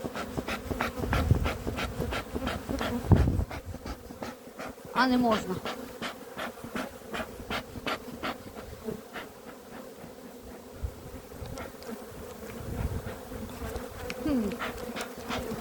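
A swarm of honeybees buzzing thickly around beehives after long rains, close and continuous with darting individual bees passing the microphone, while a person speaks briefly and moves about.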